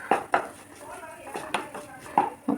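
Spiced vegetables stirred in a pan with turmeric, chili powder, garam masala and black pepper, giving a few sharp utensil clinks and scrapes against the metal with soft sizzling between them.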